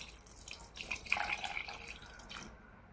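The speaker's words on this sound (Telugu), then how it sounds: "పాలు కూడా పోసేద్దాం" Milk pouring into bottle gourd payasam cooking in a village kitchen, a soft, steady liquid trickle and splash lasting a couple of seconds before fading, fairly quiet with no talking.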